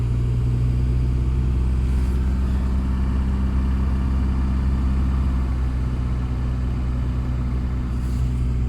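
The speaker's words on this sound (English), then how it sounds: "that was definitely a cold start" A car engine idles steadily after a cold start at -30°C, a loud, constant low rumble close by with no other sounds over it.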